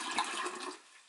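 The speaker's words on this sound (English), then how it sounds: "first thing what you got to do is pour water in this plastic bucket" Water pours in a short, steady rush into a plastic toy bucket, loud and close before quickly tapering off.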